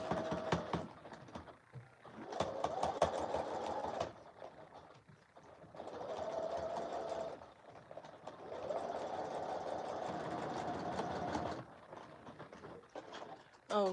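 A sewing machine stitches a collar stand in repeated bursts of fast, rhythmic whirring, each a few seconds long and separated by short pauses and light handling clicks.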